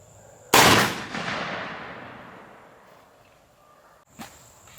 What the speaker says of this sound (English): let's just shoot it and see what happens